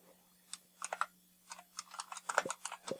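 Password being typed on a computer keyboard, a run of quick, uneven clacking keystrokes, close and fairly quiet, with short pauses between bursts and no talking.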